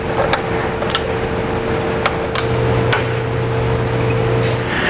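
A wrench works on the fuel tank bolts of a 2014 Yamaha FZ-09, making sharp metallic taps and clicks at irregular intervals over a steady background hum.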